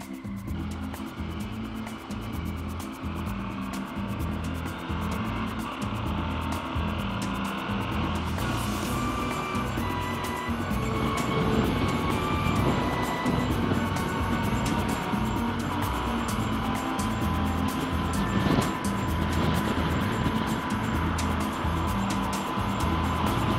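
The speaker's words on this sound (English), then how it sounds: "Lots of wind to go around for everyone today." Strong wind roars continuously and loudly in a broadband rush, gusting harder midway, with a steady low rumble beneath and no clear speech.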